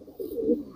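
A single soft, low coo from a four-to-five-year-old female pigeon, brief and close, rolling gently for under a second.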